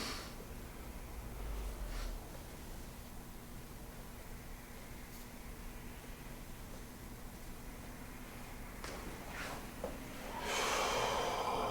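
Slow, deep breaths during a guided breathing exercise, long airy inhales and exhales with a couple of sharper intakes, close and quiet against a faint background hiss.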